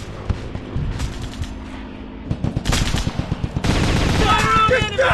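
Machine gun fire in a video game, with rapid, loud automatic bursts that grow denser and more sustained partway through, layered over constant battle noise.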